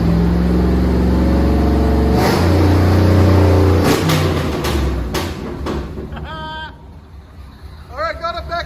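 A 1964 Chevy C10 with a 350 V8, shorty headers and Flowmaster Outlaw true dual exhaust revs loud and close in rising bursts, then settles to a rough idle with crackling backfires while people talk and chatter nearby.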